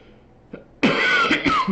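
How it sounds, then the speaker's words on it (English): A person has a coughing fit during an online tabletop game session: after a quiet lead-in with a faint catch, a loud, harsh burst of coughing and throat clearing breaks out close to the microphone and continues in rough pulses. "I had a good little coughing fit there."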